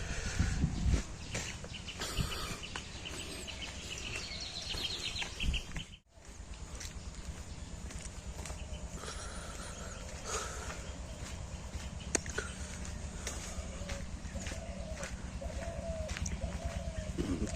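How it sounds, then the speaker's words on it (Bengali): Birds call around a rural Bangladeshi village on a sunny morning near a pond with ducks, with steady chirping and cooing over a continuous outdoor ambience and a brief dip near the middle. "কি সুন্দর পাখির ডাক"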